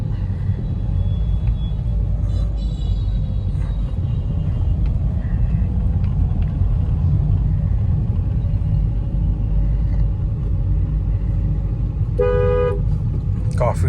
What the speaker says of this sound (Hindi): काफी ट्रैफिक है अब भी।